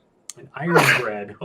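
A single loud sneeze bursts out close to the microphone during an indoor conversation, with a quick gasping intake before it and talk continuing around it.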